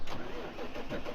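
A tractor engine in a farming simulator game cranks and catches, settling into a rough mid-pitched rumble over a brief second, loud and close with no talk.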